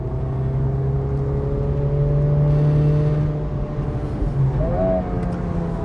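A 2023 Honda Civic Type R engine drones steadily under load from inside the cabin, then the revs dip and quickly rise again in a short rev-matched blip near the end.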